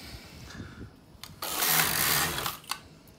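Knitting machine carriage sliding across a row of Jacquard or Fair Isle colorwork, needles set in position 2: a few light clicks, then a loud, rasping sweep lasting about a second, ending with a sharp clack.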